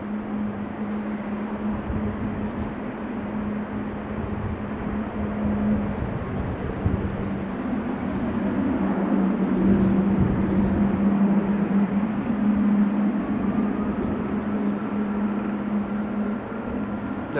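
A Transavia Boeing 737 at a rainy Amsterdam Schiphol Airport, its engines giving a steady, distant roar that swells gently in the middle and holds on with a low hum, no voices present.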